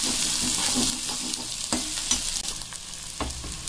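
Masala for black chana frying in a pan, a loud broad sizzle that eases after the first second, with intermittent scraping stir strokes and utensil taps, no talking.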